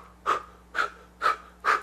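Four even, audible breaths during a singing breathing exercise, each a short airy rush about half a second apart, close and clear with no talking.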